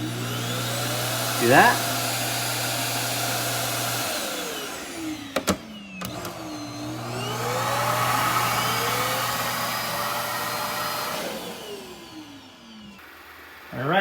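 Ecovacs DEEBOT T30S robot vacuum station automatically emptying its dustbin, a steady mid-loud whirring motor hum that rises and falls over roughly fourteen seconds, with a person speaking briefly over it.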